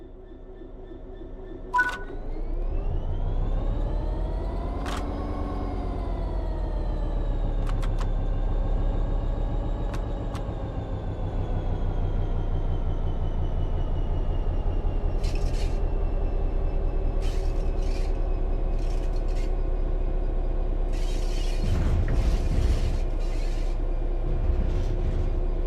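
A train in Train Sim World 3 pulls away from a stop, a low rumbling drone with a rising motor whine building steadily, brief clanks and hissing air bursts along the way, no voices.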